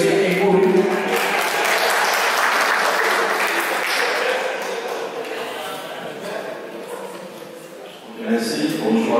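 An indoor audience claps for a speaker at a municipal climate meeting in Yaoundé, with loud sustained applause that tapers off before a voice begins speaking.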